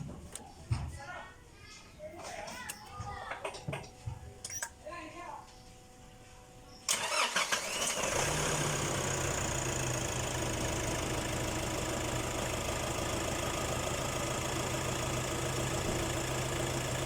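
A 2019 Nissan Navara engine cranks and catches after people talk, then settles into a loud, steady, close idle that runs without a break for the rest of the clip.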